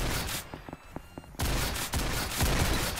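Gunfire in the Roblox game Ragdoll Universe: a few sharp shots, then a loud, dense volley of rapid overlapping gunshots that carries on without a break.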